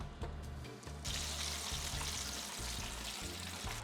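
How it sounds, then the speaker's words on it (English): Oyster mushrooms double frying in hot oil, a steady dense sizzle and crackle close up, with small clinks and bubbling throughout. "if you would like to do a double fry, you can do that here"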